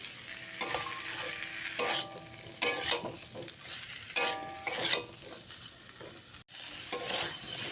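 Pumpkin fries in a pan while a spatula scrapes and stirs in regular strokes over a soft, continuous sizzle, close by.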